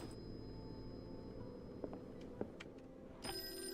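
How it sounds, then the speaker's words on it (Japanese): A telephone rings faintly inside the Call of Cthulhu video game, thin steady tones over a low murky ambience with a few soft clicks. "なんか電話鳴ってるな"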